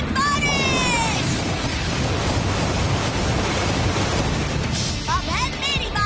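A cartoon water-rain attack effect roars as a dense, steady wash of broadband noise like heavy pouring water, loud and continuous, with swooping voiced cries and sliding tones over it at the start and end.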